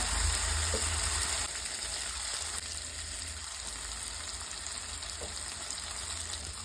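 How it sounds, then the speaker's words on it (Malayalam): Chili powder fries in hot oil for a fish curry, giving a continuous close sizzle with a few light clicks of stirring, slightly quieter after the start. "മുളക് പൊടി ഇട്ട് നല്ലതുപോലെ ആ എണ്ണയ്ക്കകത്ത് നമ്മൾ നല്ലതുപോലെ ചൂടായതുപോലെ നമ്മൾ മൂപ്പിച്ചെടുക്കണം"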